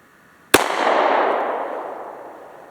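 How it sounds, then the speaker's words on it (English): A single gunshot fired at a target during a right-eye versus left-eye shooting test: one loud, sharp crack followed by a long, fading rumble of echo, with no talking. "now let me fire with my dominant eye"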